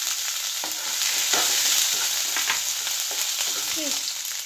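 Ginger garlic paste sizzles in hot oil in a pan with a loud, steady hiss, broken by a few close stirring scrapes at uneven intervals.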